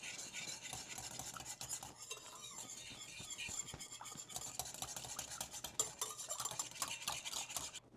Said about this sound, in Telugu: ఈస్ట్ వేసి మొత్తం మిక్స్ అయ్యేటట్టు కలుపుకోవాలి.